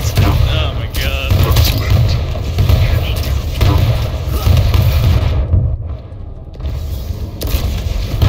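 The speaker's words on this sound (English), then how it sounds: "I guess I'm spamming rockets now" Rocket launcher fire and heavy booming blasts in the arena shooter Quake Champions on the Corrupted Keep map, loud, dense and continuous, with a player speaking over the din.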